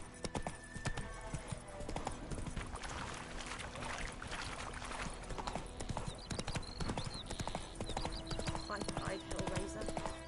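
Hooves clip-clop in a fast, steady galloping rhythm from a horse in the video game Witcher 3, dense and continuous under a wash of ambient game sound.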